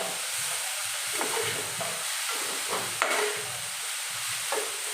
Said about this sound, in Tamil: வெங்காயம் வதங்கும் போது தேவையான அளவுக்கு சால்ட்டை ஆட் பண்ணிக்கிறோம்